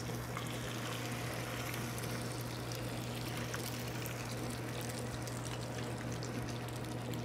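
Liquid poured into an 8-inch saute pan, a steady soft trickling wash over a constant low hum, continuous throughout at modest level with no speech.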